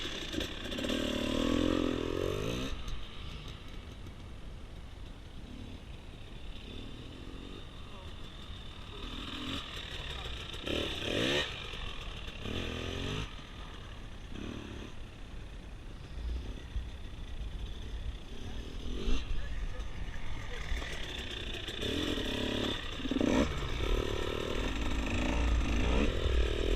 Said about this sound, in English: Feed out some gas, and then apply the rear brake.